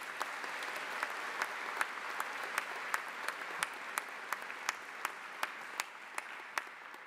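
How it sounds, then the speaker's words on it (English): An audience claps at a new student convocation, honouring the advisors and orientation leaders. The applause is steady and moderately distant, with a few sharper individual claps poking out now and then, and no voices over it. "So let's give up our applause for them."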